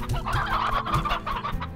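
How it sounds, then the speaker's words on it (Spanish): Rock hens in the video game Slime Rancher clucking, a close flurry of several short overlapping clucks and squawks in quick succession, with no voices. "vamos a poner donde te dije las gallinas petreas"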